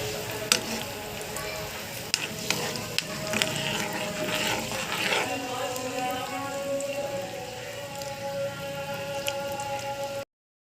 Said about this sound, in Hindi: ये मैं ऑयल में डाल दूँगी और इसे हल्का गुलाबी होने तक हम पकने देंगे